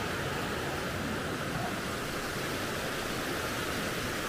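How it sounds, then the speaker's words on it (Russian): A river rushes near the Butakovka waterfall outside Almaty, giving a constant, dense, even wash of flowing water that fills the whole stretch without pause or voices. "Обожаю звук реки."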